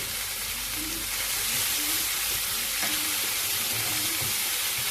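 Beef stir fry with black pepper sizzles steadily in a hot pan, a dense continuous frying crackle with faint stirring throughout.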